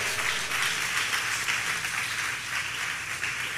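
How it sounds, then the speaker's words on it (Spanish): A church congregation claps hard together during a Spanish-language worship service. The dense, steady patter of many hands fills the full few seconds without a break. "Vamos a darle, pero fuerte, fuerte el aplauso al Señor."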